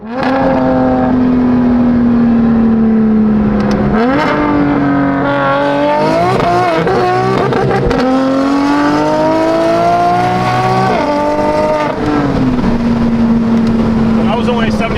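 A BMW M4 engine revs hard up to about 7,500 RPM. The loud, sustained exhaust note climbs and falls in pitch over several pulls, dips briefly between them, and stays close and dominant throughout.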